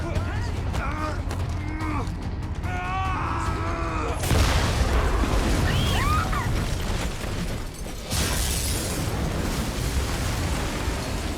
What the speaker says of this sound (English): Explosion in the Terra lab.